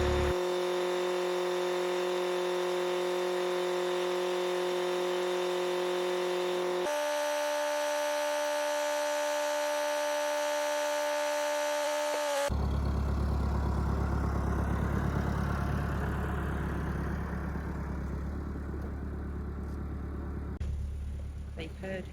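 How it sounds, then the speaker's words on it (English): A tractor engine drones steadily nearby, its tone shifting partway through into a louder, rougher rumble as it drives along. "I'm just on my way down with the tractor now to go and give them another one"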